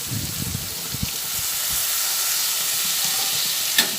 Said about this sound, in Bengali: চালটা দেওয়ার পরে আবার ভালোভাবে নাড়াচাড়া করে নিচ্ছি